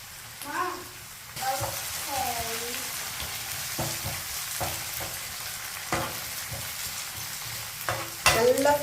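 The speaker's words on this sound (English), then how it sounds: "நல்லா ஃப்ரை பண்ணிக்கோங்க." Shallots deep-frying in hot oil for a prawn chukka make a steady close sizzle throughout. Scraping stirs and a few brief squeaky, voice-like tones sit on top.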